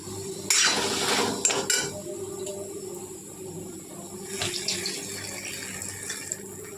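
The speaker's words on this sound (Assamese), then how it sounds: "অকণ পানী দি দিওঁ" Water pours into a cooking pot in two short splashing bursts, first about a second long and later a briefer one, over a low steady hum and faint kitchen clatter in between.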